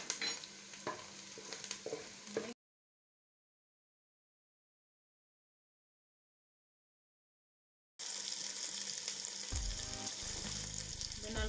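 Ginger sizzles in hot oil in a pan while being stirred for a plantain (matoke) and beef coconut sauce, with bright frying hiss and utensil scraping before and after a stretch of total silence.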